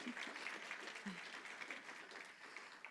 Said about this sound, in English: give them a round of applause for helping us make this happen